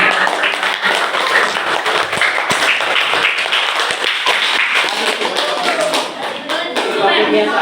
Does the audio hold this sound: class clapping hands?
yes